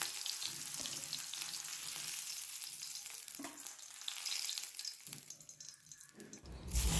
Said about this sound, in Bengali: খুব বেশি ভাজবো না, এরকম একটু ভাজা ভাজা হয়ে এলে এবার উচ্ছেগুলোকে আমি তুলে নেব।